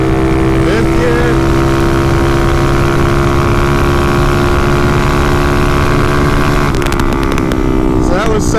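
Motorcycle engine pulling hard through third, fourth and fifth gears on a fresh road toward about 70 mph: a loud, close, continuous drone with rising pitch and brief dips at each gear change, wind noise throughout.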